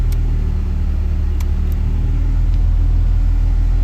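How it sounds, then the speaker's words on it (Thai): A 1992 Honda Prelude engine running at idle just after starting, a steady loud low rumble with constant engine drone and a few faint clicks, no talking. "ตอนนี้ผมสตาร์ทเครื่องแล้ว"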